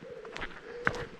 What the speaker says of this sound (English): There's some birds singing.